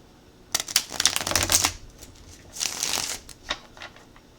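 Playing cards are riffled and bridged in quick fluttering bursts, two main shuffles close up with brief pauses between them.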